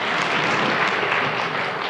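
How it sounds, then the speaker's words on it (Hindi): Dense, steady applause from a crowd at a Buddhist study circle gathering, many hands clapping together at an even level for a couple of seconds. "जोरदार तालियां"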